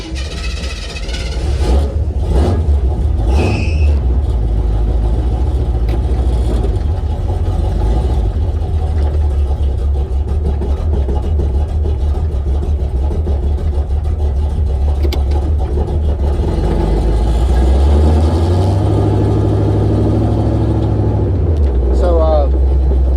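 A car engine runs steadily and close, rising in a rev swell partway through, with some talk over the rumble.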